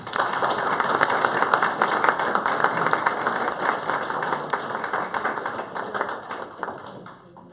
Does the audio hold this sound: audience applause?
yes